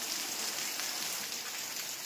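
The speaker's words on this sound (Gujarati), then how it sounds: "જોરદાર વરસાદ ચલાલામાં ચાલુ થઈ ગયો છે" Steady, dense rain hammers down continuously in Chalala, Gujarat, a broad hissing wash with no voices and no pauses.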